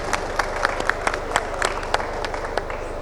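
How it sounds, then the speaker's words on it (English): An audience at a Bangladesh denim traceability panel discussion claps for a speaker, Mr. Mustafiz, with scattered distinct hand claps over a steady low hum, moderately close and not very dense. "we would like to have a clap for Mr."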